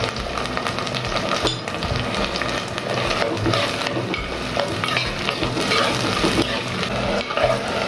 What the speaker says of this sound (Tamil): நல்லா வதக்கிக்கோங்க எண்ணெயிலேயே